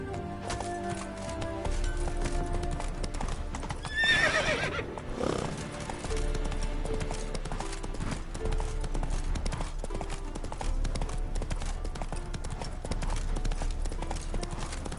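Roach, a horse in The Witcher video game, gallops with steady clip-clop hoofbeats and lets out a loud whinny near the start, over a constant musical score.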